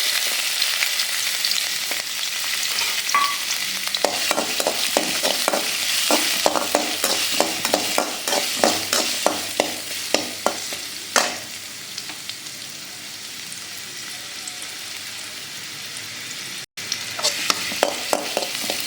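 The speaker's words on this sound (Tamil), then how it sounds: "புதினாலாம் வதங்கிறதுக்கு கொஞ்சமாக நம்ம நல்லெண்ணெய் ஊற்றியாச்சு. இஞ்சி போடுவோம்." Ginger sizzles in a little sesame oil in a pan, ready for sautéing mint, with a steady hiss of frying. Frequent sharp scrapes and taps of a stirring spoon run through it, close and clear with no voices.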